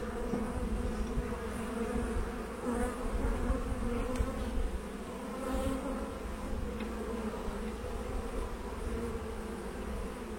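A dense, steady buzz of many rustic honey bees swarming around an opened hive, continuous and close, with no voices over it.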